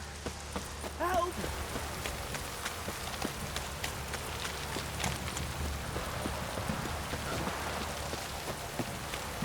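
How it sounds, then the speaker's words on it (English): Heavy downpour in The Witcher 3, a steady hiss of rain on surfaces with scattered drops and faint hoof clip-clop, while a voice calls out briefly early on. "This downpour's a bastard,"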